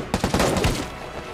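Gunfire rings out in a film shootout between a SWAT team and ISIS fighters in Iraq: a quick burst of several close, sharp shots in rapid succession, then a fading echo.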